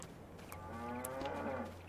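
A drawn-out moo rises from cattle on an open range in a farming game set on a UK map in winter, a clear tonal low call with faint clicks around it and no talking.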